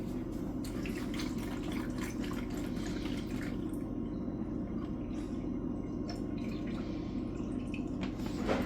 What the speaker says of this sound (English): So I'm going to use a little bit of almond milk.